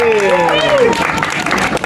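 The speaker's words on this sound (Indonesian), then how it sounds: "Boleh tepuk tangan yang meriah untuk Rudi Sujarwo." Applause at an Indonesian film event for the director of Bila Esok Ibu Tiada, loud crowd clapping running under a voice and music at the start, then continuing as a dense, close wash.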